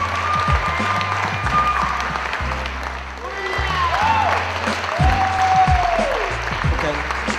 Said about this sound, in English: please give a big round of applause for everybody who was on stage tonight